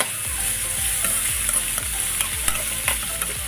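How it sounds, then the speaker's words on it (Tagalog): Duck pieces sauté in a hot pan for kaldereta, with continuous crackling sizzle and regular scraping strokes of a spatula stirring the meat, close and alone. "Gisahin nyo lang siya."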